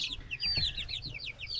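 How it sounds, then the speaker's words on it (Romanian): Four bantam chicks with feathered legs give rapid, repeated high peeping chirps, faint and close, with a low background hum. "Sunt 4 pui de găină pitică."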